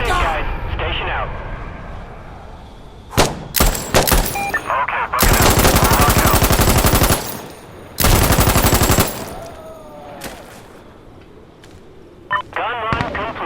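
An aircraft gun run strafes the ground in the video game Insurgency Sandstorm. Two long, loud bursts of rapid automatic fire go off with scattered gunshots between them, over constant battlefield noise and game radio voices.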